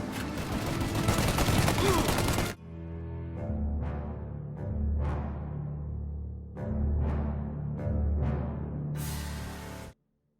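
Bursts of gunfire in the Mafia video game, a dense volley at first, then a run of separate loud shots with ringing decay over a low rumble, ending in another brief sharp burst.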